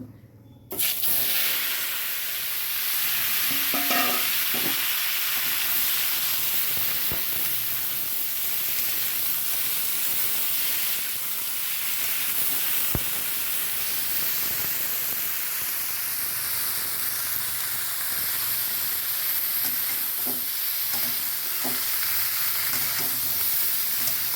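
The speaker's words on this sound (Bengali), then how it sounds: "এবারে ফুলকপিগুলো ফ্রাই করে নেব।" Cauliflower florets fry in hot oil in a kadai, giving a continuous, dense, close sizzle that holds steady for the whole stretch with no talking.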